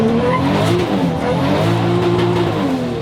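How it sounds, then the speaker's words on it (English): A street-driven Nissan 240SX S13 coupe drift car with a single-turbo 2JZ, stock bottom end and E85 fuel skids loudly and close, tires squealing continuously over a droning, revving engine with no pauses. "This is a 240SX S13 Coupe with a single turbocharged 2JZ, stock bottom end, E85, and all the goodies"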